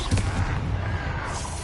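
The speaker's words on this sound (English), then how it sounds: "Who the hell is shooting?" Loud, muffled booming gunfire and explosions from the video game Hogwarts Legacy, a dense rumbling barrage with no distinct pauses.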